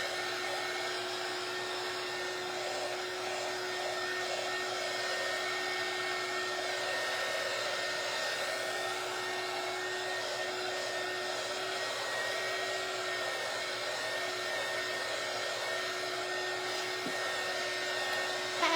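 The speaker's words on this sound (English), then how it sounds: "I'm just drying the wax." Hair dryer blowing steadily to dry wax, a continuous even whooshing hum with a constant motor whine, close and unbroken throughout with no talking.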